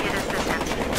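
Rapid gunfire in the Battlefield Hardline video game, dense continuous shots packed into about a second, loud and close with no pause between bursts.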